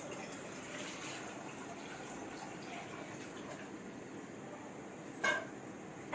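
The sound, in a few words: about two glasses of water poured into a pan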